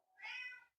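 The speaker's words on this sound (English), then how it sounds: "There's my cat." A pet cat lets out a single loud, drawn-out meow of under a second, close up and alone, rising and then fading off.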